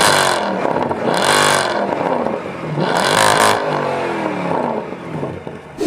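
A car engine revs loudly and close by, rising and falling in pitch in repeated surges over a steady idle, with no talking.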